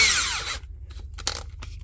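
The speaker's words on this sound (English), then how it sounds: "I got to drill the rivets out of here" A power drill whines loudly, boring rivets out of a 2020 Chevrolet flatbed build in a home shop, then cuts off into short bursts of metallic scraping and handling clatter nearby.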